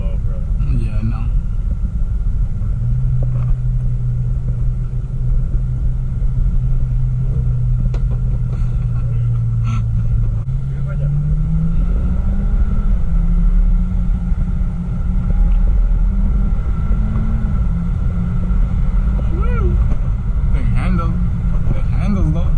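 Mitsubishi Lancer Evo X GSR on a test drive, heard from inside the cabin as a steady low engine drone that rises in pitch partway through, with a continuous road rumble and people talking.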